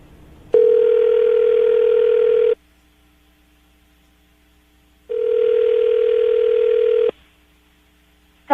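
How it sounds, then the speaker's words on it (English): Telephone dial tone while calling someone: two steady two-second tones separated by a pause, clear and close, with no talking. "we're going to call her right now, see if we can get her on the phone"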